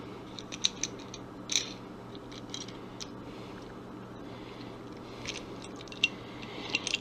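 A swaging tool crimps a swage fitting with quiet, scattered metallic clicks and scrapes over a low background hum, close and faint.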